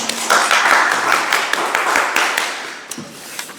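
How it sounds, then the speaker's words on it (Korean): A church congregation clapping during a Sunday worship service, a loud dense burst of applause that gradually thins and fades toward the end. "하나님께 영광의 박수 드리겠습니다"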